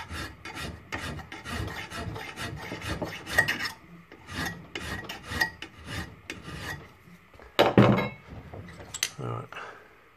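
A hand file rasps in repeated strokes across the double bevel edge of a Tusker Concorde blade held in a vise. The close scraping comes in uneven bursts, with a few metallic clanks.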